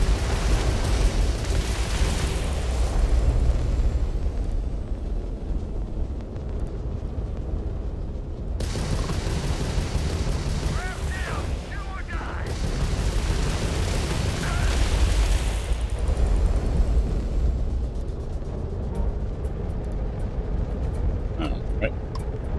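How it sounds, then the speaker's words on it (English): Missile launches and explosions in a starship battle in a space video game, deep rumbling booms and bursts over a continuous low roar, with a voice talking over the action. "Let's fire a missile."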